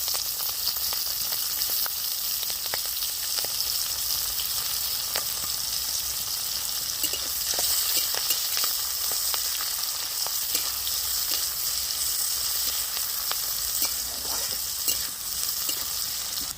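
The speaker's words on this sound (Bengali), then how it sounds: "পেঁয়াজটা ভাজা ভাজা হয়ে গেছে" Onions fry in a pan with a continuous bright sizzle, punctuated by soft scraping and stirring throughout, no talking.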